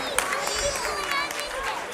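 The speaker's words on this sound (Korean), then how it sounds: "네, 다시 한번 큰 박수 부탁드립니다." Applause from a church congregation during a Sunday service Christmas performance, a steady wash of many hands clapping with some voices and cheering mixed in.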